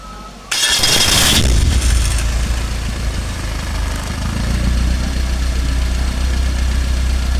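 A conventional car engine is cranked with the starter and catches after a short burst, then settles into a loud, steady idle that runs on alone.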